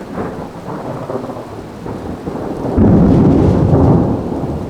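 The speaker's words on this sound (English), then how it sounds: "A storm is coming." A thunderstorm rolls in outside a dim house: steady rain hisses throughout, then a deep, loud rumble of thunder swells up and lingers for a couple of seconds before easing back under the rain.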